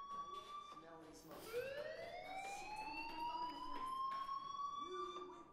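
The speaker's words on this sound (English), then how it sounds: "Hey, do you hear that fire alarm?" Fire alarm ringing in the video game Life Is Strange, a loud electronic tone that sweeps upward and then holds a steady pitch, with speech and game sounds underneath.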